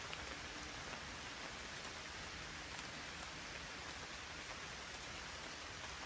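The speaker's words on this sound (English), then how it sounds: "Hopefully it doesn't start raining too hard." Rain falls outdoors as a faint, even hiss of steady drops that holds without change throughout.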